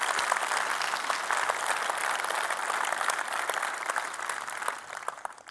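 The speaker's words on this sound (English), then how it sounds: "let's give them a round of applause for their support" Audience at a Devoxx Belgium developer conference applauds the program team, steady dense clapping from a large hall that holds evenly and thins slightly toward the end.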